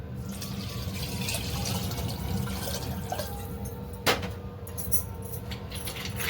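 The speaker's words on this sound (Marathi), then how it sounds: "याच्यात टाकूया थंड पाणी" Cold water pours into a container of yogurt with a steady splashing fill, then a sharp clink partway through and a few small knocks.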